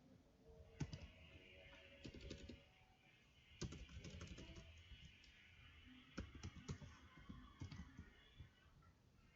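Keys clatter on a computer keyboard as shortcuts are typed, with scattered bursts of quick clicks and short pauses, faint and close, with no voices.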